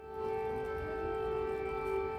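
A steady wailing air raid siren sounds from a distance in Ukraine, holding an even tone throughout, with no voices over it.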